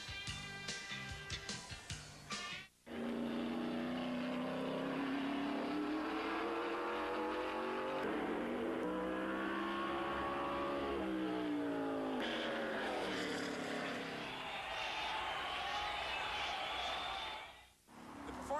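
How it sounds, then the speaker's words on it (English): Stock cars racing at Darlington International Raceway in the 1992 Southern 500, with Harry Gant lapping Bobby Hillen; a loud, sustained engine roar rises and falls in pitch as cars pass, breaking off briefly near the start and end. "Harry Gant pulls up to put a lap on Bobby Hillen in the Southern 500 from Darlington International Raceway"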